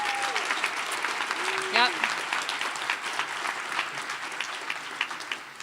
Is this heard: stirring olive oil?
no